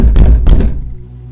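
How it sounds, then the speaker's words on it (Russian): Two dull, heavy knocks land on a door about a third of a second apart, close and loud, followed by a quiet room with a low hum. "Стук повторился."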